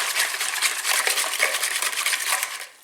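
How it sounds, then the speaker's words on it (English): A whisk beats mustard and brown sugar together in a bowl, a steady fast metallic clicking and scraping that runs unbroken for a few seconds before easing off, close and fairly quiet with no talking. "whisk that all together"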